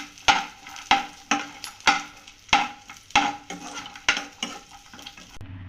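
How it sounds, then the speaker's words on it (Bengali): Nuts and raisins frying in a pan for suji halwa, stirred with a spoon in a steady rhythm: about nine sharp scrapes and clacks against the pan over a soft background sizzle, close and distinct. "আবারও একটু আমি নেড়ে চেড়ে ভেজে নিচ্ছি"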